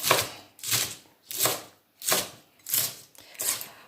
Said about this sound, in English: I'm going to chop some green onions